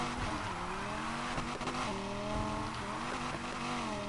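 BMW M4 GTS drifting in the Need for Speed Heat video game: a loud, continuous engine drone with shifting pitch under a steady, sustained tire squeal, close and with no talk.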